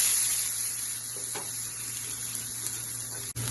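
Onions, tomatoes and green chillies fry in a pan with a soft, steady hiss and sizzle, fairly faint and continuous, with a short click near the end and no voices.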